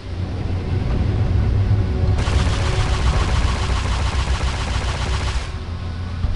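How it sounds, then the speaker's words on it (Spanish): Turret weapon fire from the space combat game Freelancer: a loud, steady stream of rapid shots layered over a low engine rumble, intensifying sharply partway through and then easing back. "Disparo diferente a nuestra nueva torreta."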